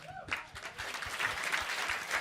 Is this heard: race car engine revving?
no